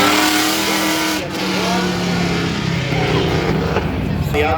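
Race cars at a spectator drag event roaring through turn 3, a steady loud engine drone with shifting pitch as the cars pass, under continuous announcer commentary.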